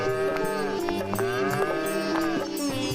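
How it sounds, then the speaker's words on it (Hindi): Two cartoon bulls low and moo in drawn-out, overlapping calls that rise and fall for several seconds, loud and close in a village setting. "उसने 2 बैलों की एक सुंदर जोड़ी खरीदी।"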